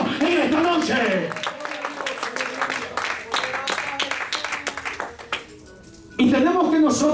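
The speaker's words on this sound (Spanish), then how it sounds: "Alguien que aplauda a Dios en esta noche." Church congregation claps to God during an evening service, sharp individual claps in a dense rhythmic burst that thins out toward the end, with a preacher's voice over the start and returning at the close.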